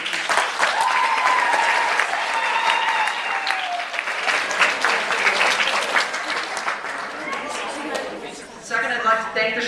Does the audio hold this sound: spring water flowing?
no